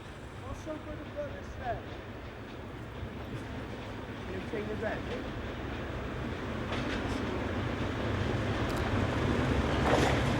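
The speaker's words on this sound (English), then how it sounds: "The 37s were to top and tail a total of 3 return trains from Cardiff to Bridgend" A Class 37 diesel locomotive-hauled train arrives at Bridgend station, a steady rumbling roll of wheels and engine that grows gradually louder over about ten seconds, with faint squeals and clanks.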